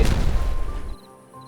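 Dynamite detonating in Timberborn, a single deep booming blast up close that rumbles for about a second before dropping off into quiet, no talk.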